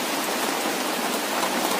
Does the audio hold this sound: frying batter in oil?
no